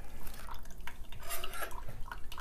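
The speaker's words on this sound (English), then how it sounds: "So when I pour this mixture through the filter," A water and sand mixture poured through a paper filter: close, trickling drips and splashes with small scattered clinks of the container, fairly quiet and unbroken by talk.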